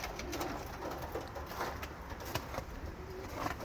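Racing homer pigeons coo softly inside a cage, low murmuring calls repeating over a steady hiss of background noise, faint and close with no talk.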